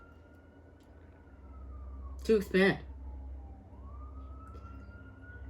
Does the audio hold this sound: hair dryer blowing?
no